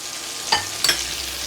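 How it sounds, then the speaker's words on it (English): Pork is stir-fried with butter in about 1.5 tablespoons of sesame oil: two quick scraping stirs with a brief sizzle in a quiet kitchen. Nobody talks. "And I am just going to stir fry this."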